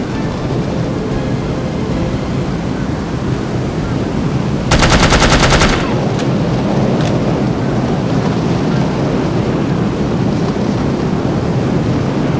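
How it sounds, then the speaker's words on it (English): Automatic gunfire in the shooter game No One Lives Forever, a loud rapid burst of about a second standing out from a dense, constant roar of background noise. "Just shoot directly at the guys and you should be fine."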